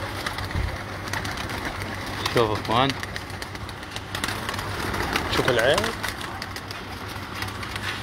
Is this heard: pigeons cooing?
yes